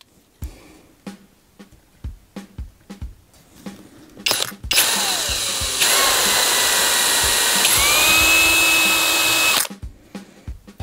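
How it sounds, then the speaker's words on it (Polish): A power drill with a 2 mm bit bores a small hole in a tiny tail spinner part, whining loudly and steadily for about five seconds, its pitch shifting mid-cut, between quieter handling clicks. "Wywiercę to wiertłem 2 mm, w zupełności wystarczy."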